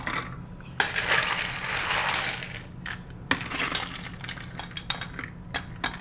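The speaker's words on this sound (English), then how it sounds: "Fill it with as much ice as you prefer." Ice cubes tumbling into a glass for a Moscow Mule cocktail: a loud, close rush of clattering and clinking cubes, then scattered individual clinks as the ice settles.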